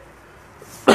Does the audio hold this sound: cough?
yes